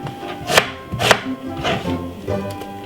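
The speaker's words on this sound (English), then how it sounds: "1 white onion, cut it up very small." A knife chops a white onion very small on a board, four sharp, evenly spaced cuts ringing out close and clear with no talking.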